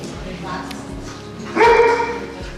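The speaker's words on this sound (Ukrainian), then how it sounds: "де зустрів Джоні, собаку, яка стала його справжнім другом." A therapy dog at a rehabilitation centre gives a short bark or yip in the middle, over steady background noise and speech.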